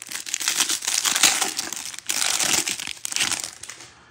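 An empty cardboard trading card hanger box being crushed by hand, a close, loud crumpling and crackling in two or three squeezes over a few seconds.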